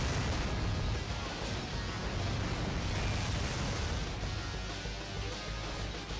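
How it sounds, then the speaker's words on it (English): Heavy, continuous roar of weapon fire and blasts from the Omega Cannon in the video game Descent 2, a dense rumbling barrage that stays loud and steady throughout with no talking. "You know, or we could try the Omega Cannon."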